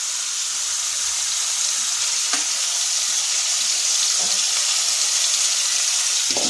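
Onions for chicken curry fry in a pan with a steady, loud sizzle and hiss, occasional stirring scrapes breaking through the continuous crackle.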